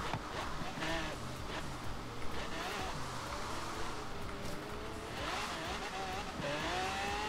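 A Ford Mustang GT 350 in Forza Horizon 3 revs hard, its engine pitch climbing and dropping through gear changes, with tire squeal as it corners; a voice talks over it.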